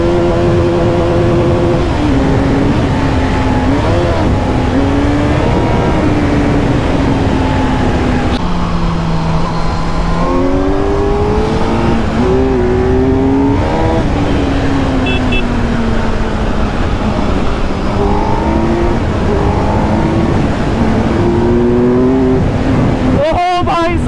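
A Kawasaki Z900 superbike accelerates hard, its engine note repeatedly climbing and dropping through revs, loud and close from the rider's perspective, with wind noise and occasional voices over it.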